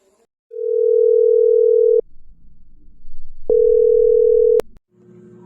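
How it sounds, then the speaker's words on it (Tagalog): A telephone dial tone sounds as a steady, loud electronic hum for about a second and a half, stops briefly, then returns for another second before cutting off, with faint room noise between. "Tuwing tapos sa trabaho si Ralph ay tatawagan na niya agad si Addie."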